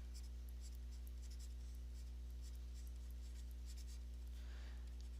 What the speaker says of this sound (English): we're going to write out the word SOHCAH